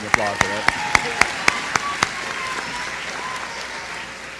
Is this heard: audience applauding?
yes